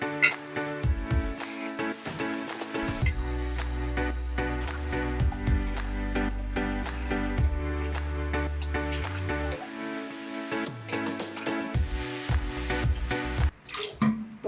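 Water splashes and gurgles as it is poured from glasses into a cooking pot for bagara rice, in several separate pours with short pauses, close and fairly loud.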